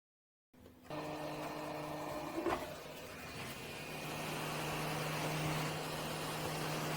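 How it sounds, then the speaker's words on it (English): A hot air rework station blows steady 350-degree air onto the pins of an 80286 SIPP socket on a motherboard, a constant close hiss and whir running unbroken for several seconds with a faint click partway through. "So I'm blasting those pins with 350-degree air and very gently pulling on the socket from the other side of the board."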